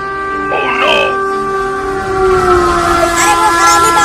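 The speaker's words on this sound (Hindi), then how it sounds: "आगे से ट्रेन भी आ रही है" Train approaching in a spoken horror story, with a sustained horn blaring over rumbling rail noise and a second wailing horn tone near the start, loud and close.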